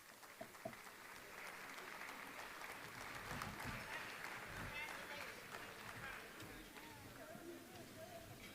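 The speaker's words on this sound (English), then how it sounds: "how about a round of applause for the former inductees of the Greater Buffalo Sports Hall of Fame." Audience applause for former inductees at the Greater Buffalo Sports Hall of Fame induction ceremony, a sustained, even roar of many hands clapping in a large room, heard at a distance and fairly faint.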